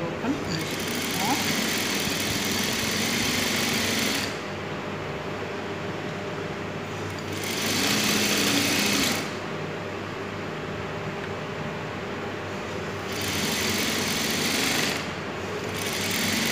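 An electric sewing machine runs a lock stitch to finish the leg opening of a salwar, a dense steady mechanical buzz in long runs of about four seconds with quieter pauses, close up, with a voice talking over it throughout.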